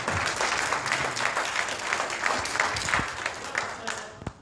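Guests at a 30th wedding anniversary party give warm, sustained applause, a dense, even wash of clapping that slowly thins out toward the end.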